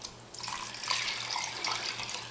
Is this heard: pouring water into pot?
yes